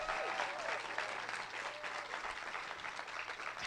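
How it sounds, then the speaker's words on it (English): Audience at a Bernie Sanders rally in a crowded hall applauds, a continuous wash of many hands clapping at a fairly distant, even level, with a few whoops rising through it. "Y'all, that's worth another clap."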